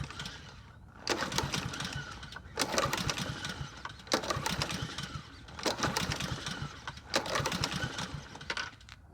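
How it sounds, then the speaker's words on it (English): Husqvarna 7021P push lawn mower engine pulled over by its starter cord several times without starting, each pull a rough mechanical whirring burst roughly every one and a half seconds, close and alone. "I'll take it and I'll pull the engine through a few times to let it circulate the oil some"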